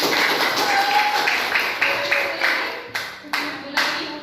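A classroom group claps hands together in applause, close and loud, the claps starting as a dense patter and then thinning into a few separate, sharper claps toward the end.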